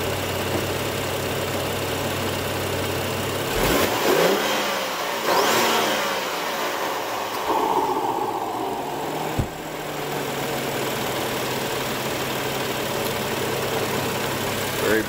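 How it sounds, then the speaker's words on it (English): BMW X5 SUV with a twin-turbo engine, heard outside at idle and then blipped through several sharp revs that rise and fall near the middle, settling back to a steady, smooth idle hum. "I'm going to give it a rev from here and see what it sounds like."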